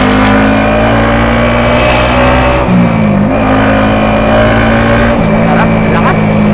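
A car's engine hums loudly and steadily from inside the cabin during a test drive on a busy road, the pitch dipping and climbing again as it shifts gears, with no talk over it.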